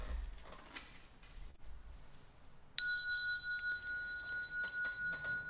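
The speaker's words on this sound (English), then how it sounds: "Bell sound" A single bell is struck during a Buddhist lecture, ringing out loud and close with a bright metallic strike and a long sustained shimmer that keeps resounding to the end after quiet ambience.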